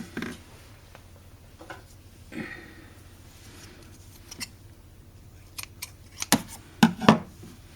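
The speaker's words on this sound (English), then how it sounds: "and then you can cut the yarn." Scissors snipping crochet yarn close up, a few quiet handling sounds first, then several sharp metallic snips clustered near the end.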